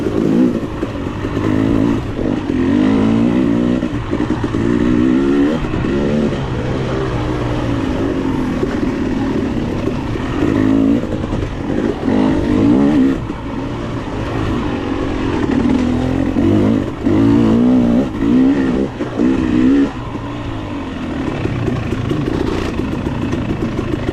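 A 2022 KTM 300 XC-W two-stroke dirt bike engine racing in a hare scramble, loud and close, revving and surging continuously through mostly third gear with frequent throttle rises and dips, no talking.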